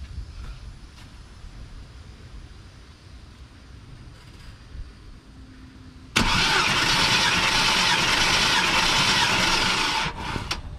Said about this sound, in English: I'm gonna go ahead and crank it again.